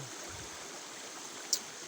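The Kali Petung river flows at night as a faint, steady rushing wash of water, with one brief small tick partway through and no voices.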